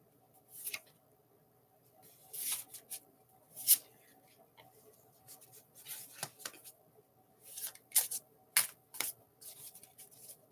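Tarot cards are shuffled in soft, irregular bursts of riffling and sliding, quiet and close with pauses between handfuls and no talking.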